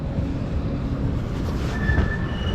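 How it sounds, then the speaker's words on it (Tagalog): Steady loud rumble of two trains passing each other on rails in Zagreb, with a faint metallic wheel squeal rising near the end; no voices. "Salubungan yung tren, no?"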